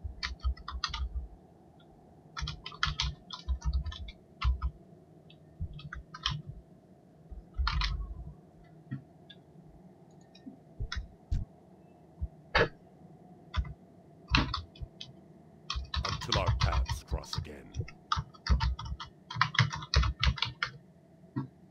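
Someone types a chat message on a computer keyboard during a World of Warcraft session, with bursts of quick close key clicks separated by short pauses.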